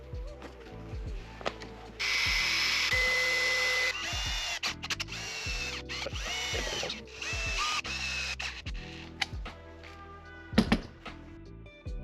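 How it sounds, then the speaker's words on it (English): A power drill drives screws to fasten a shore power inlet onto a wood-backed rubber cover inside a van, several loud whirring bursts near the mic with clicks and thunks between them. "So now we are screwing our shore power inlet to the plastic thing with the wood backing."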